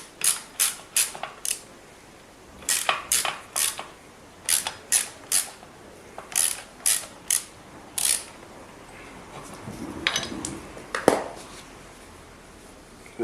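Ratchet clicks in quick bursts of three to five as a large ratchet works loose a brake caliper bolt on a Suzuki DRZ 400 motorcycle, close and crisp, then a few softer handling knocks and a louder clunk near the end.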